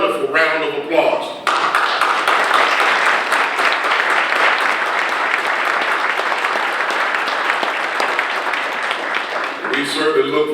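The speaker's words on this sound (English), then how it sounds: "give you a wonderful round of applause" A large audience at a county government address applauds local clergy, dense sustained clapping after a brief spoken line, fading as a voice returns at the end.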